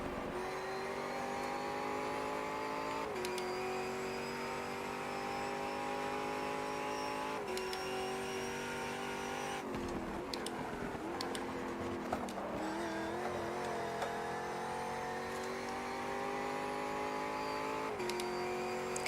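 A racing car engine in the GTR2 sim holds a steady high drone and shifts up through the gears in repeated rising sweeps. It dips and swells around the middle as the car brakes and accelerates, with a faint tire squeal.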